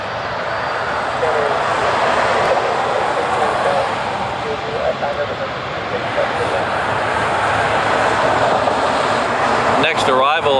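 A United Airlines airliner roars steadily at Honolulu airport, with a broad, constant jet engine rush filling the scene from nearby and a brief whine near the end.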